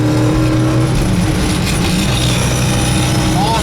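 A 1967 Pontiac GTO engine runs loud and close with a low, rumbling drone, holding a steady throaty tone with slight rises, with no voices over it.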